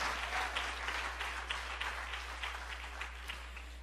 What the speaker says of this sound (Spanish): Vamos a darle un aplauso fuerte al Rey de Reyes y Señor de Señores